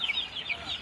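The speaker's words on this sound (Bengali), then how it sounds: "নিজস্ব খাওয়ার জন্য আসলে দেখেন কিছু মুরগি রাখা হয়েছে" Farm chickens kept on a bird farm giving a few short, mid-level clucks in quick succession, heard close and alone.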